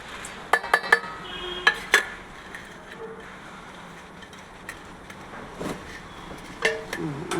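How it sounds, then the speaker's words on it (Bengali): Chopped garlic, green chili and ginger paste tip into a bowl for fenugreek-leaf fritters, with several sharp clinks of a utensil against the bowl early on, then softer scraping and shuffling sounds at close range without talk. "এটা আমি পুরোটাই এর মধ্যে ঢেলে দিচ্ছি"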